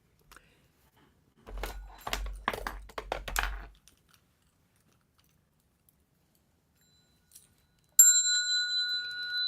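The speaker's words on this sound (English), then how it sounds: "The bell sound wide resounds" A Buddhist temple bell is struck once and rings on with a clear, sustained tone, preceded earlier by a few brief clattering knocks and then silence.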